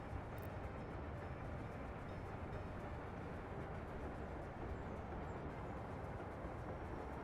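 Trains moving in the video game Workers & Resources: Soviet Republic, a faint, steady low rumble of rolling rail traffic with no clear breaks, heard alone.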